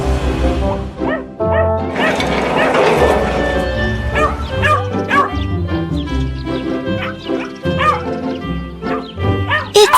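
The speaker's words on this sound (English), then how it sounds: "You hear someone barking." A cartoon dog barks and yips repeatedly in quick bursts over background music and sound effects.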